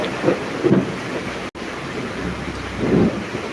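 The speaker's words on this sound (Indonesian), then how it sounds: "Ini hujan." Steady rain rushes in a broad hiss with low rumbling swells, heard outdoors at a spot serving iced drinks, continuous and fairly loud with no voices.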